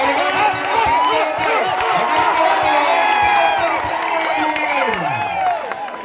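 A dense crowd of spectators at a village tug-of-war match between Velikkad and KVC Karalmanna roars with sustained cheering and shouts, steady and loud throughout, with voices rising and falling and some clapping mixed into the din.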